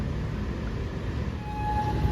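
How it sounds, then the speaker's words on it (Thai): Train 202 from Phitsanulok rolls through the Si Ayutthaya Road railway level crossing in Bangkok, with the barriers down. A steady, close rumble of rail wheels runs throughout, with faint tonal squeals near the end. "ก็มีสัญญาณไม้กั้นลงนะฮะเพราะว่า จะมีขบวนรถไฟเที่ยวร่อง ขบวนที่ 202 นะครับผม"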